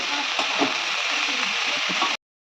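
Blanched cabbage fries in a hot pan, a loud continuous sizzle with faint stirring scrapes throughout, cutting off abruptly near the end.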